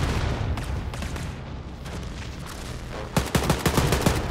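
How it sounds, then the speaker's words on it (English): Rapid automatic gunfire from the Diesel Craftwork weapon in Wolfenstein: Youngblood, a dense continuous stream of shots that grows into louder, punchier bursts near the end, with no talk. "I was not aiming well with my diesel craft work"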